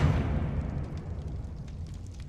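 Incendio fire spell cast in Hogwarts Legacy, a loud whooshing burst that fades into a crackling, decaying rumble, with faint clicks afterward.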